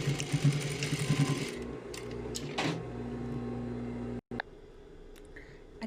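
A sewing machine runs steadily for about four seconds while stitching a garment opening and collar, then briefly reverses to backstitch and lock the seam. After a short gap a few quieter clicks and handling noises follow, with no talking.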